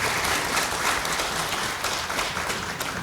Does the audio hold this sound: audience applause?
yes